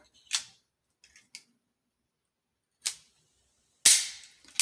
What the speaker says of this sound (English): Now let's check the fast action trigger.